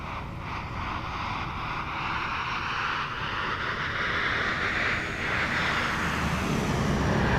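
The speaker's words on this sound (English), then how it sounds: "The hell is that? An MD-11." An MD-11 airliner in Microsoft Flight Simulator 2024 passes by with a broad, steady jet roar that swells gradually, with no voices.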